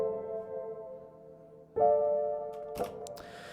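Two sustained chords in first inversion for a dark trap loop, the first ringing softly and the second entering louder at mid-clip, followed by a couple of brief higher accents, with no talking.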